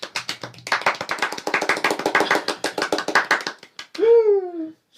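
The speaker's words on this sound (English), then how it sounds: "awkward round of applause?" Two podcast hosts clap in a small, close round of applause, with sparse uneven claps that speed up and then stop, followed by a brief vocal sound.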